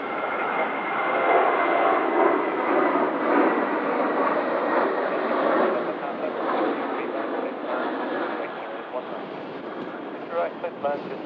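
TUI Boeing 787-9 Dreamliner jet taking off at Manchester, with a loud, sustained roar of the engines rising and holding, then slowly fading and thinning toward the end, while air traffic control radio chatter talks over it.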